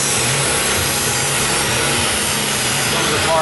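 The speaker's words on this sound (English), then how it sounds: "sanding the backside for a gasket surface" Continuous abrasive sanding rasps against the back of a metal part, loud and close, a steady gritty hiss with faint machinery underneath.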